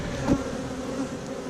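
Honey bees buzz steadily and close by during a hive inspection, a dense continuous drone with no talk.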